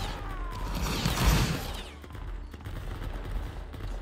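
Musket volleys crackle through a Roblox Napoleonic Wars battle, a dense burst of overlapping shots building to a loud peak before thinning into scattered, continuous firing.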